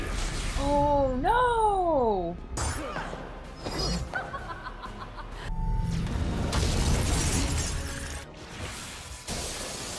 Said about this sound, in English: It looks so cool with the stained glass shattering.